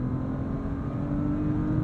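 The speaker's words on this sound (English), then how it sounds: "I love the flump on the upshift from the exhaust" A 2023 Bentley Flying Spur Speed W12 engine drones low and steady, a thick burbling exhaust rumble on the upshift holding close and loud throughout.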